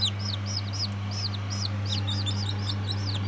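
Many tiny newly hatched chicks peeping continuously in high, rising chirps inside an incubator over a steady low mechanical hum.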